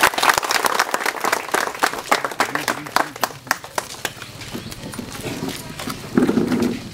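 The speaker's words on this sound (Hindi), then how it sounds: "इनका सबसे पहले आप सभी लोग तालियों से स्वागत करें" Crowd applause at a political rally in Nawadih, Ramgarh, for an RJD Palamu Lok Sabha candidate: scattered sharp claps building into a rhythmic burst, then thinning with faint voices underneath.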